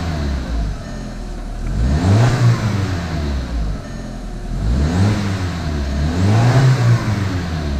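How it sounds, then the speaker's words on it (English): A 1986 car being revved during a jump start in winter, its engine swelling and falling in three loud, close rev cycles over a steady idle. "why I rev the engine that it brings juice into the other car"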